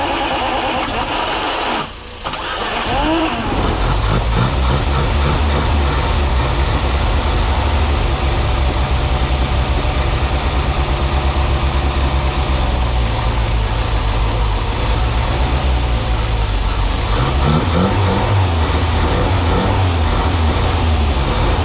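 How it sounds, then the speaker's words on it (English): A Toyota 7K turbo engine on its first start, cranking briefly and then catching into a loud, steady, slightly uneven idle while running very rich, sustained close up with no talking. "The car is running super rich"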